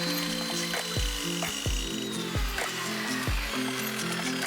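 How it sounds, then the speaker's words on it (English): A miter saw cuts thin plywood bracing strips into short pieces, with a series of sharp cutting bursts and thumps over a running motor whine, close and fairly loud. "I cut these down to size using the miter saw."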